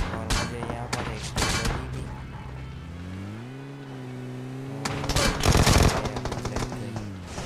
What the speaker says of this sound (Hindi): पीछे से फायरिंग की आवाज़ आई